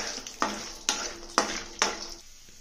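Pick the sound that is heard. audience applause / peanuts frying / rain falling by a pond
peanuts frying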